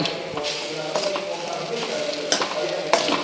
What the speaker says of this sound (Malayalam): കപ്പയും കൂട്ടത്തിൽ ഇളക്കി കൊടുക്കാം